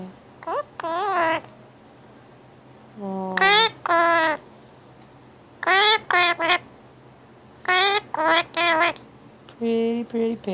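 A pet parrot chatters and babbles in about half a dozen loud, close bursts of squawky, speech-like warbling, separated by short pauses over a faint hum.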